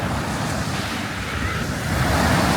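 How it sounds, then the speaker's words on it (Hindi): Sea waves wash onto a beach in Malaga, a steady, loud surf roar with rushing wash and some wind noise across the whole stretch, building slightly toward the end, with no talking. "समुंदर की आवाज़ कितनी वो लग रही है ना"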